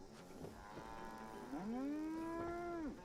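Brahmin cow from Fallout 76 gives a long, loud bellowing moo that rises into a sustained tonal low and trails off, preceded by softer grunting lows and faint game background.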